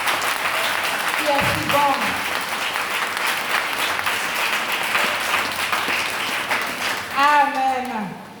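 A church congregation applauds throughout, sustained dense clapping with a few voices calling out over it and a singing or shouting voice rising near the end.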